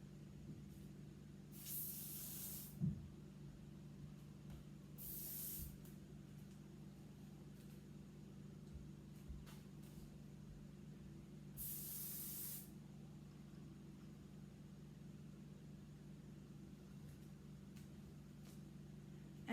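Hair finishing spray with hold, sprayed from a can in three short hissing bursts spaced several seconds apart over a low, steady room hum.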